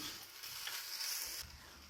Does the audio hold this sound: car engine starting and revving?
no